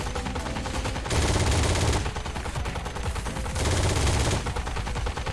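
Heavy M2 machine gun fire in the Heroes & Generals video game, two loud sustained bursts of rapid automatic shots, each lasting about a second, over continuous battlefield din with no talk.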